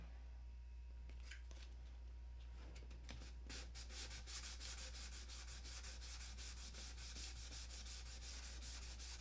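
Sanding by hand with fine-grit sandpaper on an unpainted surface in a stunt hangar, heard as quick, even back-and-forth rubbing strokes that build into a steady close rhythm over a low constant hum.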